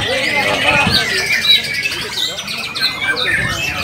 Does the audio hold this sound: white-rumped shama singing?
yes